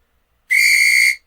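A referee whistle in the 1989 ATR basketball PC game sounds one steady shrill blast, loud and close, lasting about half a second with nothing else around it.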